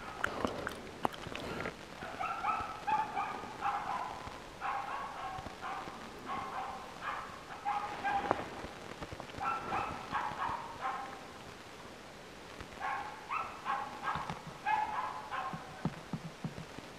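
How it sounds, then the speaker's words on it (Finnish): A hunting dog barks at a capercaillie somewhere off in the forest, roughly a hundred metres away: distant, repeated bursts of barking in clustered runs with short pauses between, fairly faint against the quiet woodland air. "Nyt on semmonen 100 metriä matkaa tuolla jossain se haukku."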